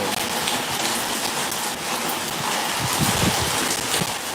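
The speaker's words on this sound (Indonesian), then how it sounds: "Hujan guys tuh." Steady rain falling continuously outdoors, a dense hiss of drops hitting surfaces, fairly loud and unbroken with no voices.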